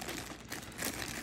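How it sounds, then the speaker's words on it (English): A plastic bag from a Diamond Art Club diamond painting kit being opened: continuous loud crinkling and rustling close up, with no talk. "let's move on and open the plastic bag"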